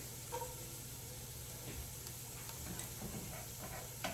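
Ginger and garlic sizzle in a hot pan of coconut red curry base, a quiet, steady frying crackle with a few faint clicks from stirring.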